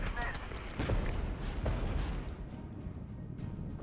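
Artillery fire in the war video game Regiments lands as several dull booms and sharp cracks over a rumbling battle background, with someone talking over the action.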